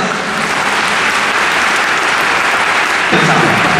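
Audience applauding at a baseball fan thanks festival, a loud, sustained wash of many hands clapping from a large crowd that continues steadily throughout, swelling slightly near the end.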